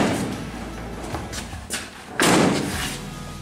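A door slams shut with a loud, close thud in a workshop where a 1952 Ford F1 truck is being built, following a few softer knocks, with no talking.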